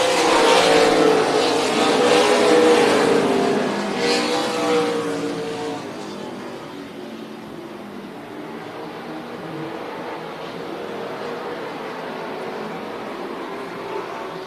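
NASCAR Weekly Series stock cars race at Tucson Speedway, a loud pack of engines roaring past up close and then fading into a steadier, more distant drone as they circle the oval.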